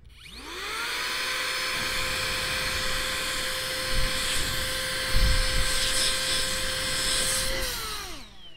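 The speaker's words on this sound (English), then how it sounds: "This is the O-Polar rechargeable dust blower." An O-Polar rechargeable electric dust blower spins up with a rising whine, then holds a steady, loud, high-pitched whir for several seconds. It winds down near the end, with a few faint handling bumps.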